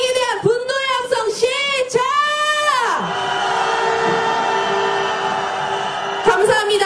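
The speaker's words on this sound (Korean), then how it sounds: "윤석열 탄핵에 대한 분노의 함성" Protesters at a candlelight march rally let out a long, loud roar of angry shouting, a massed crowd yell swelling after a stretch of amplified voice and cheering and fading as the leader's voice returns.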